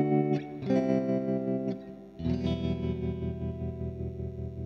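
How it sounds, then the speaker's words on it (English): An electric guitar played through an MXR M305 tremolo pedal, with chords pulsing in a steady, even amplitude throb that sustains clearly after a few plucked notes. "It's a nice kind of standard trem sound there."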